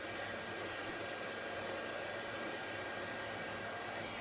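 A heat tool blows hot air for embossing a distress oxide ink craft tag, giving a constant, faint, even whooshing hiss with no change in level and no speech.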